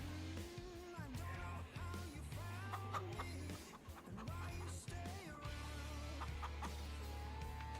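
Farm chickens in Farming Simulator 25 cluck and squawk in short repeated bursts over a steady low game hum and background music, fairly faint overall.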